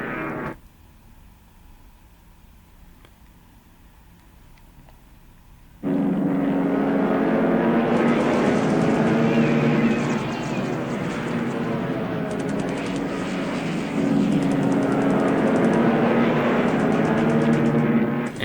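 Droning propeller engines of bomber formations in the War in the Pacific strategy game, a quiet low hum at first that swells abruptly into a loud, steady roar lasting to the end.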